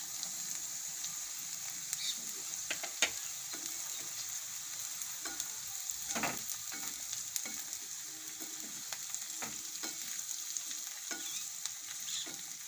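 Garlic frying in oil over a low gas flame while making Maharashtrian thecha chutney, a soft steady sizzle with occasional light stirring clicks, close and continuous with no talking.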